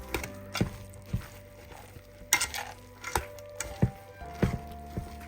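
A spoon stirs and scrapes through boondhi laddu mixture coated in sugar syrup in a pan, giving irregular clinks and knocks against the vessel with soft wet sounds between, alone and fairly quiet.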